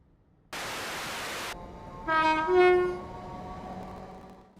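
Class 321 electric multiple unit train in Train Simulator, with a burst of steady hiss followed by a loud two-tone horn sounding nearby and then fading into a low background rumble.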